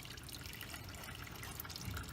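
Engine oil from a small block 350 Silverado pours out in a steady, faint liquid trickle, a continuous splashing stream with no talking.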